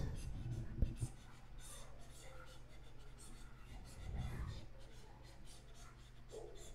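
Pen marks scratch quietly on paper as someone draws and writes out a class IX statistics solution, in short soft strokes with faint breathy sounds around them.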